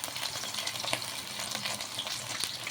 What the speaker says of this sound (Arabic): حطيت فيها معلقتين كده من زيت الذره، وهنزل كمان بمعلقه من الثوم المفروم